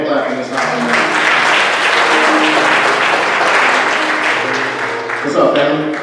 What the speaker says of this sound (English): Y'all continue to give the Lord a hand clap in this house.